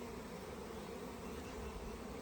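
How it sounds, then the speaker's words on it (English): A swarm of honey bees, including dark bees, gives off a steady, continuous buzzing drone, faint and even throughout with no voices. "That's a lot of bees in that one too."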